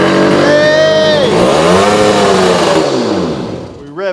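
A rare 1967 Yamaha YCS1 motorcycle engine, newly restored and just fired up, revving loudly and close, with sharp rising and falling pitch sweeps before cutting off, and an excited shout near the end.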